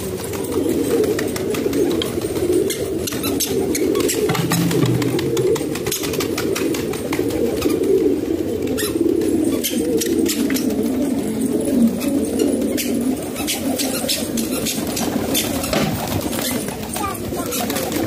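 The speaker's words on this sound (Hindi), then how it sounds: "200 कबूतरों की वर्जिश भी हो रही है" Many pigeons coo in a low, soft murmur, with occasional wing flaps and rustling in a busy flock close by.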